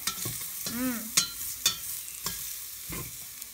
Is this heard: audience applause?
no